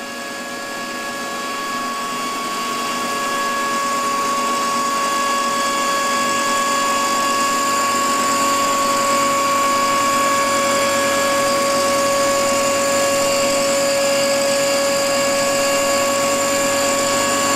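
A Christy & Norris 8 inch lab hammer mill runs steadily on its stainless steel plinth, giving a loud continuous motor whine with a broad grinding rush and faint steady tones that build over the first few seconds and then hold without talk.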